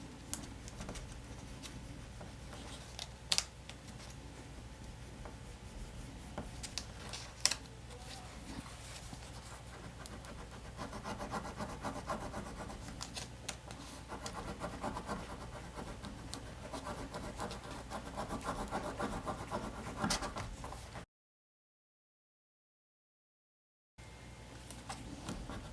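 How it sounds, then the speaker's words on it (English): An image transfer is rubbed onto a paper planner page, a soft continuous scratchy rubbing close by, quiet and steady, with a brief silent gap near the end. "you want to make sure that you rub the entire image and you get all of those pieces to transfer"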